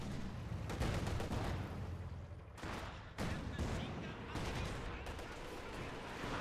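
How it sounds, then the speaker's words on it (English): A ZiS anti-tank gun fires in a World War II strategy video game, with gunfire and battle noise rumbling continuously throughout, one sharp break near the middle, and commentary mixed underneath. "And the Ziskun's firing on the Panzer."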